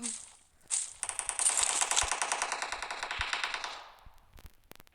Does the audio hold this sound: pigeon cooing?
no